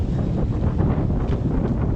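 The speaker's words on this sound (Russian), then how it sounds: "Ну невозможно сидеть, уже ветер." Strong wind buffets the microphone in a steady, low roar that fills the whole stretch, on a riverbank at a shipping channel during feeder fishing, with faint water or boat noise beneath.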